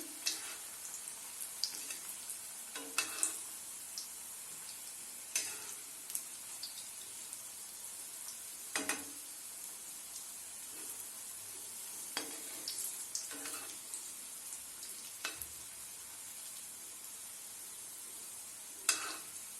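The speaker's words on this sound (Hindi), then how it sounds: "ये पकना शुरू हो चुके हैं। धीरे से इनको पलटा लेंगे।" Turnip koftas frying in a pan give a steady soft sizzle, broken by repeated scrape and clack sounds as a utensil turns them every few seconds.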